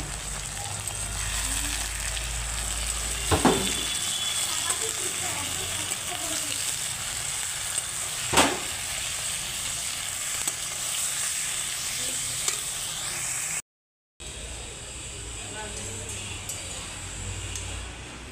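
Chicken meat fries in a pan over a clay stove after the onions, giving a steady, close, loud sizzle with occasional stirring clinks and a brief break.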